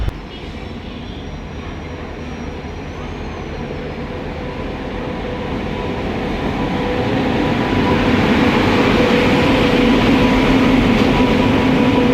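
A heavy express train, the Kanyakumari-Howrah Express, rumbles into platform 1 at Madurai Junction with a steady, growing roar and a faint high whine, getting louder as it nears; no voices.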